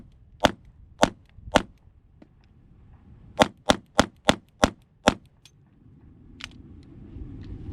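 A Springfield Hellcat pistol fired held sideways gives nine sharp, loud cracks: three evenly spaced shots, a pause of almost two seconds, then a quicker string of six.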